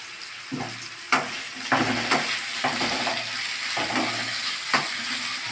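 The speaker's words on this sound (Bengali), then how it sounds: "আলুটা মোটামুটি একটু নাড়াচাড়া করে দিয়ে তারপরে গাজর বিনস সবই দিয়ে দিলাম" Potatoes, carrots and beans stir-fried in a pan, a continuous close sizzle broken by repeated scraping strokes of a spatula at a steady, unhurried rhythm, with no voices.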